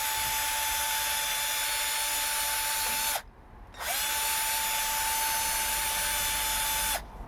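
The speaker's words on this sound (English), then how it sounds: "I'm just going to sort of ream it out, if you will, just to take any overspray off" A power tool reams overspray out of a BMW 320d E90 suspension part. Two loud, close, steady whirring runs are split by a short pause, and a third burst starts at the end.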